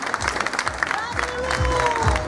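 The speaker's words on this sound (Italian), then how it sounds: "Fate un applauso a ognuno di loro" Steady applause from a crowd at a rueda dance festival, clapping continuously and fairly close, with a few voices murmuring underneath.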